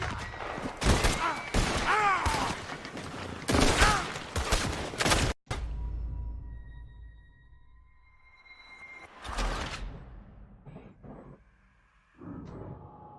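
Rapid bursts of gunfire in the Red Dead Redemption 2 video game, loud cracking volleys packed together in the first five seconds, then quieter spells broken by further isolated shots and a later burst.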